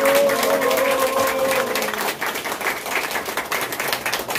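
Audience clapping at an apartment residents' meeting in Gwanggyo, Suwon, a steady burst of applause from a roomful of people, loud and sustained throughout.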